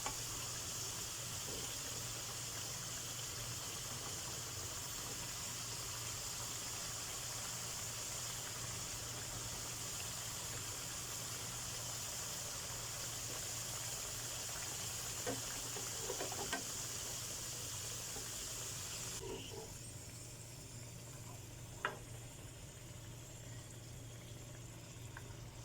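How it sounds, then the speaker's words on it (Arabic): Potato slices frying in hot oil in a pan for a lemon potato tray bake, a steady, even sizzle holding for the whole stretch and easing slightly near the end, with a few faint clinks and no voices. "تمام كده خلصنا قلي البطاطس"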